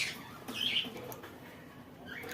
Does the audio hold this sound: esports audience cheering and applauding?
no